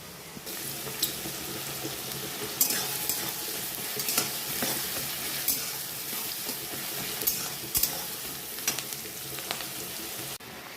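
Lemon-marinated chicken frying in a pan in a home kitchen, a steady broadband sizzle with scattered sharp clicks and scrapes of stirring, fairly close and continuous, no voices.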